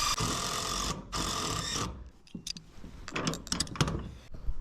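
A power driver screws a fall anchor into a shipping container roof with two loud whirring bursts up close, followed by scattered metallic clicks and knocks.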